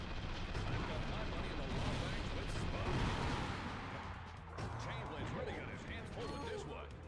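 Deployed turrets firing in Ratchet & Clank: Going Commando, a dense, continuous rumble of rapid shots and blasts throughout, fairly loud and busy, with voices mixed faintly underneath.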